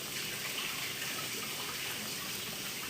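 Kitchen tap running steadily for a quick rinse while cooking Swedish meatballs and mashed potatoes, a continuous close splashing rush of water with no talk.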